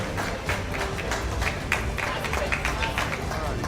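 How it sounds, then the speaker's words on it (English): An audience claps for a medal winner at an eSoccer World Cup edition event, a steady ripple of applause with scattered louder claps, mixed with crowd chatter and a voice speaking over it. "Please a round of applause as he takes his medal."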